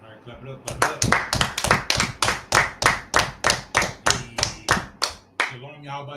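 Audience at a religious history class clapping in unison, about fifteen sharp, evenly spaced claps in a steady rhythm, close and loud, ending in a short burst of voices.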